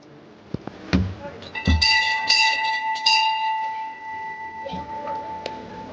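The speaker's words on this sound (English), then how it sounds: "ring the bell for good luck" A bell rung for good luck at an outdoor Christmas market in bad weather, struck a few times with a sustained bright metallic ring that hangs and slowly fades over crowd noise and distant talk.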